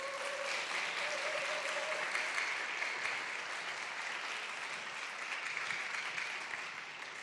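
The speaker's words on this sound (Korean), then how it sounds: "우리 조금 박수로 좀 격려와 또 환영의 박수로 김대로 목사님을 좀 모시도록 하겠습니다" A church audience in Korea claps steadily to welcome a pastor to the front. The dense, even applause from many hands keeps going for about seven seconds with no break, and a faint tone sits underneath at the start.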